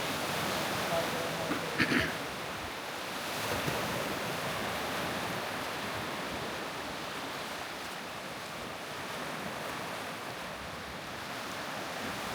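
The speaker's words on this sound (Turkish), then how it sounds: "Dalga iyidir ya." Waves breaking on the shore at Aktaş beach in Antalya, a steady broadband wash with wind buffeting the microphone and a brief clatter near the start.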